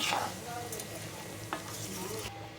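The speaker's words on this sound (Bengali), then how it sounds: "এটাকে ভালো করে মিশিয়ে ঢাকনা দিয়ে সিদ্ধ করে নেব।" Raw mango pickle with sugar stirred in a pot before being covered and simmered, heard as a brief close scrape and clink of stirring over a soft bubbling sizzle.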